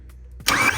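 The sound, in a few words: BMW V10 engine cranking during compression test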